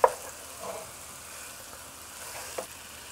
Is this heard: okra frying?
yes